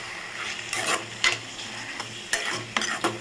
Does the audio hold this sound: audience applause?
no